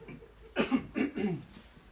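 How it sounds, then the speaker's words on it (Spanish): A person clears their throat with two or three short, gravelly rasps close by, in a quiet room. "Esto es carraspera simple"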